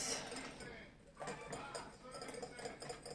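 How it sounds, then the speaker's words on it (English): A metal whisk clinks steadily against a bowl while hollandaise sauce is beaten, with quick, quiet, close-up tapping that stays soft and even throughout. "Just keep on adding and keep on whisking."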